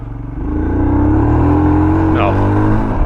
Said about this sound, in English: Let's see if we can even do a burnout.